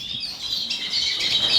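A cluster of young cage birds chirps in a bird room, a dense, continuous high twittering of overlapping calls at moderate distance, with no voices.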